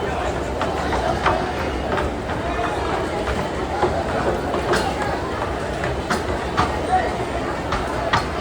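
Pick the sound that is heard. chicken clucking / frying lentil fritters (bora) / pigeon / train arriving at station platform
train arriving at station platform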